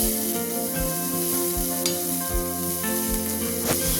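Chopped onion and green chillies sizzle steadily in a hot oiled pan for paneer bhurji, a continuous close frying hiss with occasional stirring scrapes and no talk.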